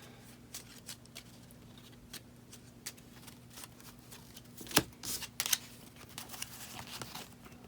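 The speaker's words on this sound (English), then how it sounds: "He will have to shuffle his deck." Playing cards being shuffled during a solo tabletop session of the Lord of the Rings: Journeys in Middle-earth board game, a series of soft riffling bursts repeating through the clip, close and fairly quiet over a steady low background hum.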